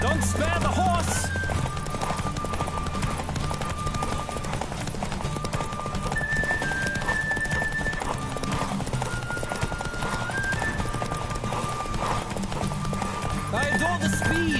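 Hooves clip-clop in a steady galloping rhythm as a horse races in The Witcher 3, with occasional whinnies, music and a talking voice over a continuous loud bed.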